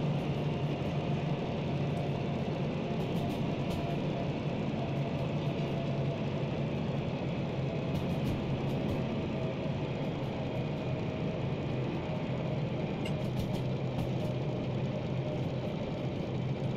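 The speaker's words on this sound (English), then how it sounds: "we need to crank this engine brake on quite a bit." A DM3 diesel locomotive in the Derail Valley game runs with a steady, low engine drone that holds for the whole stretch, broken only by faint high ticks, with no talking.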